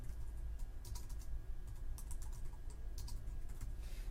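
Fingers tap quickly on a computer keyboard while typing a blog address in Blogger, a quiet, steady patter of soft key clicks over faint background hiss.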